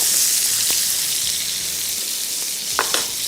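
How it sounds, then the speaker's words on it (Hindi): A black pepper gravy sauce fries in a pan for steak and mash, a loud close sizzle with continuous bubbling hiss and a couple of brief stirring clicks near the end. "थोड़ा सा इसको फ्राई करेंगे पहले"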